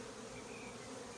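Honeybees drone steadily at beehives in a community garden, a dense, continuous outdoor buzz with no pauses or voices.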